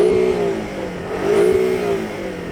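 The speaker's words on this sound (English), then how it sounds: "Go on, rev up the Porsche." The turbocharged four-cylinder engine of a Porsche Cayman revs twice from idle, each rise swelling to a strained mid-pitched drone and falling back, close and loud.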